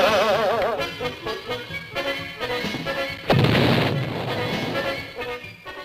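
A single loud gunpowder explosion bursts midway through a 1964 Hector Heathcote cartoon, a sudden boom with a rumbling tail that cuts across the ongoing orchestral score.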